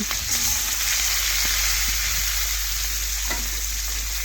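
Small fish pieces fry in hot oil in a pan, with a loud, constant sizzle and a few faint clinks from the pan underneath.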